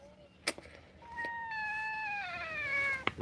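A house cat meows close by in one drawn-out, rising then falling call lasting a couple of seconds, with a few faint clicks and bumps around it in an otherwise quiet room.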